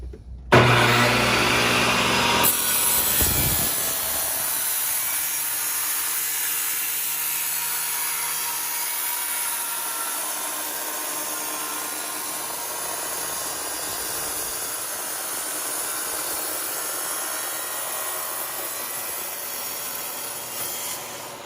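An IQ Powertools 228 Cyclone tile saw cuts dry through tile on a 12-inch cut. It starts abruptly and keeps up a loud, steady, close grinding whine for the whole stretch, with no talking.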